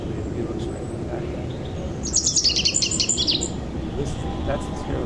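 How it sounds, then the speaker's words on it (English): A sparrow sings a short burst of bright chirping notes over a steady low rumble of background noise. "That's the sparrow singing."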